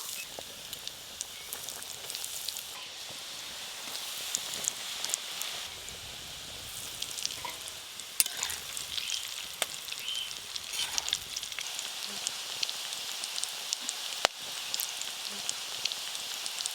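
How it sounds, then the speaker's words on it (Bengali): Vegetable chops frying in hot oil, a steady close crackle and hiss with irregular pops that carries on without a break and without talk. "এবার বাদবাকিগুলো সব ভেজে নেব।"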